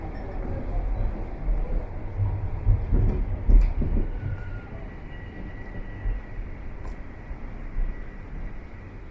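A subway train rolls into King Station in Toronto, a low rumble and rattle that swells to a peak midway and then eases off as it slows, heard from inside the car.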